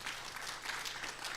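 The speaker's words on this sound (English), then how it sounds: "Let's clap for them," An audience applauding at a university funding conference, a steady wash of many hands clapping, faint and somewhat distant, with no talk over it.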